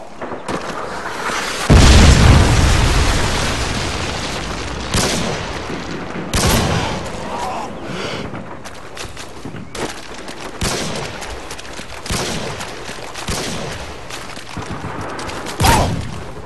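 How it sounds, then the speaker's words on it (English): Predator missile blast in Call of Duty: Modern Warfare 2 multiplayer on the Wasteland map, a loud booming explosion at about two seconds followed by repeated gunfire bursts and further thuds and impacts throughout. "Friendly Predator missile inbound."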